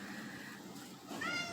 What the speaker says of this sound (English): Kitty's seriously trying to open the door.